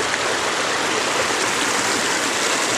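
Whitewater creek rushing steadily in a continuous broadband roar, close and loud with no pauses, at a campsite near a swing bridge on North Suck Creek.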